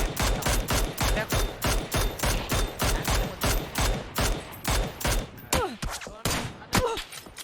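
Rapid automatic gunfire in a video game, loud and close, a steady stream of evenly spaced shots for about six seconds, then a few scattered single bursts with whooshing effects at the end.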